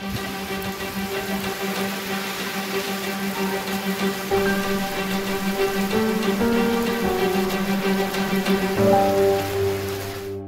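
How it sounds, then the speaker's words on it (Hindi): Heavy, sudden rain pouring down steadily as a dense, continuous hiss and patter, loud and unbroken throughout, with a low tonal hum running underneath. "क्योंकि बारिश आ गई है काफ़ी ज़्यादा तेज़, 2 मिनट में ही इतनी ज़्यादा तेज़ अचानक बारिश होने लगी"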